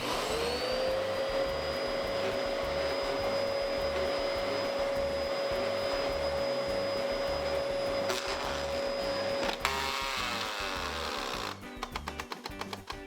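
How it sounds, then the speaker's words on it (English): A vacuum cleaner whines steadily at close range, then its tone shifts and rattles briefly, followed by choppy clattering as a Syncwire Lightning cable passes through. "now I'm gonna run this Syncwire cable under the vacuum cleaner and see what happens"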